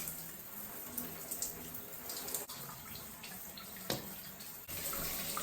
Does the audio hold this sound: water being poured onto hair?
yes